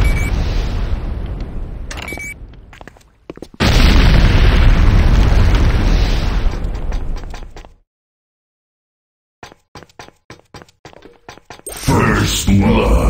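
A building blows up in the video game Renegade C&C, with loud, heavy booming blasts running several seconds, then a silence followed by scattered sharp pops and bursts.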